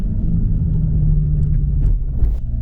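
A Volkswagen Golf GTI TCR accelerates, its engine giving a deep, steady rumbling drone heard from close by with no talk over it.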